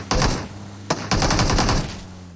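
Video game gunfire bursts out close and loud in three bursts of rapid automatic shots, with a short gap between the first and second burst.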